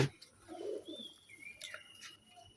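A pigeon gives a soft, low coo in a pigeon loft, followed by faint chirps and light rustling in a quiet space.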